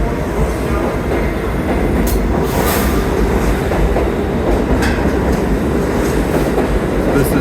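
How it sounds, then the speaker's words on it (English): An 8-car subway train runs through Columbus Circle station, a loud continuous rumble of wheels on rail with rattling clatter and brief metallic screeches, no talk. "This is a 600-foot train, 8 cars, 75 feet each."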